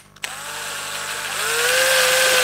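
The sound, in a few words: drilling holes in wood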